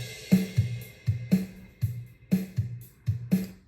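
Logic Pro virtual drummer playing a steady beat: punchy kick and snare hits in a regular repeating pattern with cymbal wash, loud and close, with no talking.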